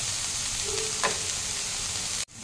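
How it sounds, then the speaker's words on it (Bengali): Oats fry in a pan while an oats pulao is being cooked. A steady, close sizzle continues throughout, with one brief tonal scrape midway before the sound drops out just before the end. No speech is present. "দিয়ে একটু এটা ভাজতে দেবো।"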